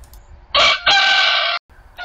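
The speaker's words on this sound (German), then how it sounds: "Und hier ist er jetzt und kräht." A rooster dumped in a driveway gives a loud, close cock-a-doodle-doo, one crow made of a short opening note followed by a long sustained call, with a second crow just starting as the clip ends.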